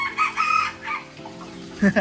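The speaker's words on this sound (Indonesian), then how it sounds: "ayam" A chicken clucks and a rooster crows in bursts of several calls, loud and close, with a sharp cackle near the end and no talk over it.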